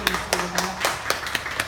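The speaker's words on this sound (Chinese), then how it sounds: "我们掌声好不好？" A crowd claps in an even rhythm at a live a cappella concert by a Korean group in Taiwan, crisp regular claps with voices over them.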